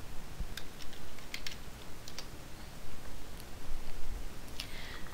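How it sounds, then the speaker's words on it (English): Computer keyboard typing as a word is entered into a search box: light, scattered keystroke ticks over steady background hiss, close and fairly faint, no speech. "so I'm just going to type in calendar"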